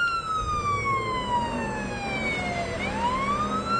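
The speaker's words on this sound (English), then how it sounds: "I'll get away from the siren so you can hear me" Emergency vehicle siren in the video game Police Simulator, a loud wailing tone that slides down slowly, then sweeps back up, over a low engine rumble.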